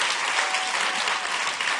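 A live event audience at the Bush Library claps in a dense, even burst of applause throughout, with no voices standing out.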